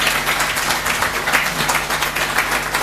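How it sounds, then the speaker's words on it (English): Audience applause in a Senate chamber as visiting family members stand to be recognized: a steady, dense round of clapping filling the room, fairly close and sustained throughout with little talk. "A clap for them."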